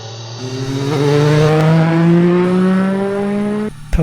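A loud three-cylinder exhaust on a 2002 Triumph Daytona 955i motorcycle howls as the engine revs up through a gear, pitch climbing steadily, then cuts off abruptly near the end.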